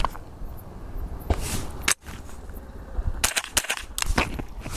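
A .22LR AR-15 rifle fired rapidly outdoors, a fast string of sharp, fairly light cracks in quick succession with a brief pause partway, moderately loud and close.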